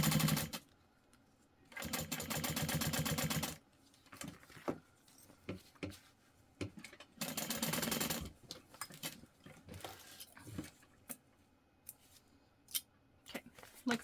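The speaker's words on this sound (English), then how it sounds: "I am stitching through that Decaville light" A sewing machine stitches through bag fabric with stiff interfacing, running in two steady buzzing bursts, one long and one shorter, with clicks and handling knocks between them, close up.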